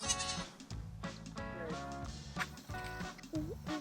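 A goat bleats in a workshop setting, with several wavering, nasal calls close by, varying in pitch and filling the short stretch with little pause.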